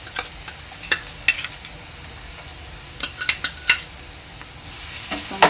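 Ginger garlic paste sizzles softly in a pan with cooked onions for a mixed vegetable dish, a steady low crackle broken by sharp clinks and scrapes of a spoon stirring against the pan.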